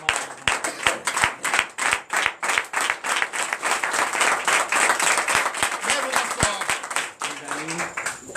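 A church congregation at a deliverance night service claps rhythmically in steady, evenly spaced beats, with cheering voices mixed in under the claps.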